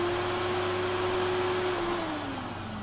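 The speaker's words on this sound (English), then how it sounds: "Oh, it's a leaf blower." A leaf blower in the video game Surface: Mystery of Another World gives a loud, steady motorized whine with an even airy roar, holding for the whole stretch and dipping slightly in pitch near the end.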